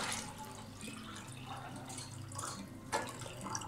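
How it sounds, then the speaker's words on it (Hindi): Water trickling and splashing from a tap into a cooking pan, set up for boiling macaroni, a soft steady pour heard close up and fairly quiet throughout. "उसमें हमने पानी डाल देना है"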